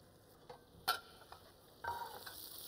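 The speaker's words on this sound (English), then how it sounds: "We're going to sort of toast that up a little bit so the flavours really come out." Onion, garlic, chickpeas, chorizo and cumin toast in a pan with a faint, quiet sizzle, broken by a few light stirring scrapes and taps.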